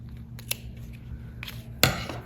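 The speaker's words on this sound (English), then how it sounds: "Then you can cut the tails off." Scissors snip off yarn tails on a woven winter tree craft, a few faint, quiet cuts spread out, with the last one sharper and closer.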